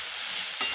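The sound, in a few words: stirring cabbage frying in a pan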